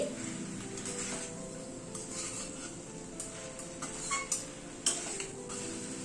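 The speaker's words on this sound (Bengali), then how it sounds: "সবকিছু দিয়ে একবার একটু মিশিয়ে নিচ্ছি।" Chicken being stirred in a pan with tossed capsicum and onion, soft scraping and a few light clinks of a utensil against the pan, quiet and close with a faint sizzle underneath.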